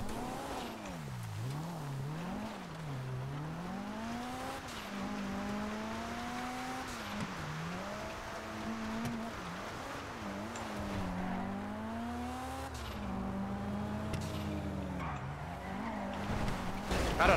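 A car in GTA Online drives with a continuous, wavering engine drone that rises and falls as it revs and skids, moderately quiet under game background noise.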